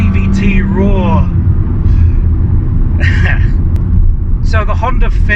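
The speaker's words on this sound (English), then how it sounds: "Listen to that CVT roar." Honda Jazz RS hatchback with a CVT gearbox drones steadily while driving, a constant low engine and road rumble running throughout under intermittent speech.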